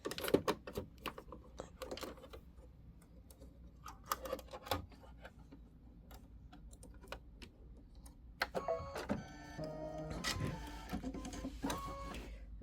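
An embroidery machine stitches the batting tack-down on a quilt scallop border: scattered light mechanical clicks and taps at first, then a denser, faster run of rattling stitches near the end, all fairly quiet and close.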